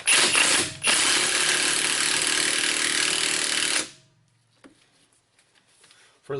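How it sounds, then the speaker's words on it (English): A ratchet wrench tightens strut nuts on a 2001 Buick Century during CV axle work, a loud, fast continuous clicking that stops briefly near the start, runs steadily for a few seconds, then cuts off into near silence with faint clinks. "Gotta tighten these strut nuts up to specs."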